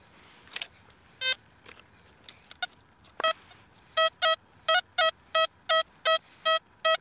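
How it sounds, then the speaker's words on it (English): A metal detector gives a run of clear, evenly spaced electronic tones over a shallow target, repeating quickly after a few scattered earlier beeps, with faint rustling in the background. "listen to that, just ringing, solid 80"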